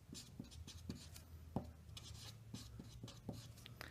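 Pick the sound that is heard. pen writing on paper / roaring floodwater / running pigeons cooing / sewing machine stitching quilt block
pen writing on paper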